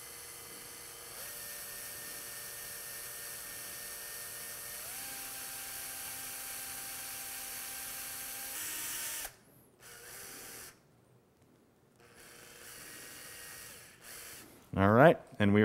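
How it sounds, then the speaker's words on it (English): A power drill bores a bit through a dog's bone on a cadaver, a steady whine that holds pitch and then steps up as it works. It cuts off abruptly and is followed by quieter handling noises and a brief squeal. "begin drilling"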